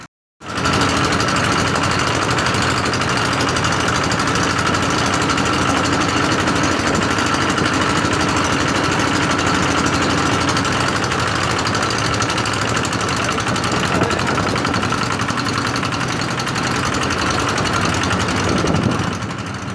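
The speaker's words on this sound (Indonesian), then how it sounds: "ini saya servis diesel RD ya, Kubota 110" A Kubota 110 diesel engine runs steadily during servicing, a loud continuous close-up rattling drone with fast mechanical clatter, holding constant for nearly twenty seconds with no talking.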